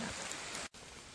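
Heavy rain pours steadily through a mossy forest on a mountain hike, a dense close hiss that briefly drops out before resuming.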